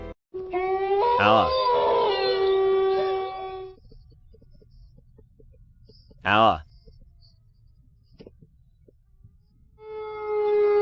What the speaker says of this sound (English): In the background, again and again hear the plaintive howl of the doll.